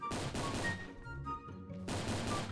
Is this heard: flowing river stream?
no